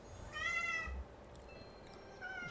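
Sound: cat meowing

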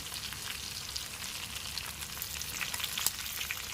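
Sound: mutton frying in a pan for roast curry

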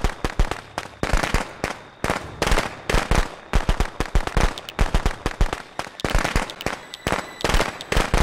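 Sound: firecrackers going off in video game Friday the 13th

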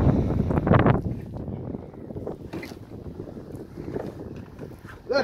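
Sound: sail being raised on a boat in wind

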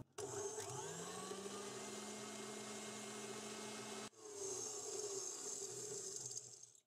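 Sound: mixer whipping chamomile and clary sage body butter

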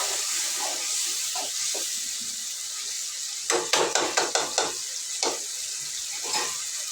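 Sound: stirring ginger garlic paste frying in a pan

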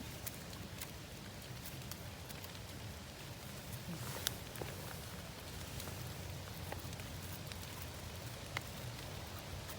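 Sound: rain falling in forest while picking mushrooms

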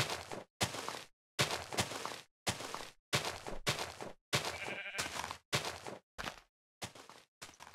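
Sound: sheep bleating in Minecraft, a video game

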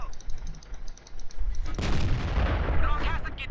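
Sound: tank cannon fire in the World of Tanks video game

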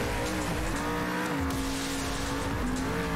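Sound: race cars speeding and tires squealing in a racing video game

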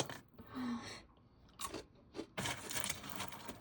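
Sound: chewing crispy homemade fried food

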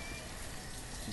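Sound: rain in the video game Banished

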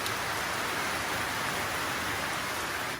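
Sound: rain falling

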